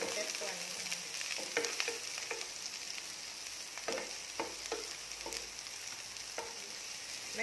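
Tomato and carrot are stir-fried in a pan over medium heat, a soft continuous sizzle broken by repeated sharp clacks and scrapes of a spatula at an uneven rhythm, heard close with no talking.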